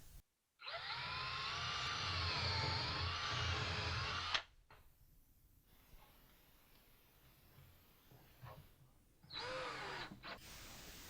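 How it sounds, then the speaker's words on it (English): A power drill pre-drilling holes in wood whirs loudly for about four seconds, stops, then runs again in a short burst, with quiet shuffling between. "I want to pre-drill some holes in the bottom"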